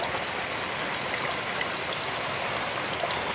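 Distilled water splashes and rinses the contents of a beaker during gold recovery from BGA chips, a steady hissing patter of running water heard close up without talking.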